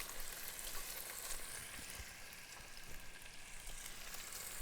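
Potatoes frying in a pan in a home-style kitchen, a steady dense sizzle with faint crackles and occasional light stirring clatter, moderately quiet and continuous with no talking.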